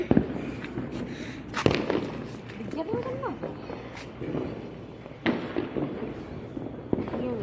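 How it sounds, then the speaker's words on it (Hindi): Firecrackers pop in scattered, echoing bangs during an outdoor Karva Chauth celebration, some near and loud, others distant, with people talking throughout. "पटाखे बजेंगे, पटाखे, बंदूक चलाएंगे यार"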